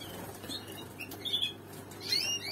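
A red snowy male canary flaps its wings inside a breeding cage, giving soft, fluttery bursts of close wingbeats with faint chirps amid quiet room noise.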